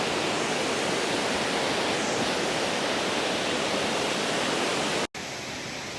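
Steady broadband roar of a waterfall rushing close by on the trail to Hawk Mountain shelter, continuous and loud for about five seconds before cutting out abruptly.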